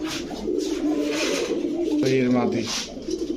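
Pakistani pigeons coo close by in a series of soft, throaty rolling calls, with people talking over them.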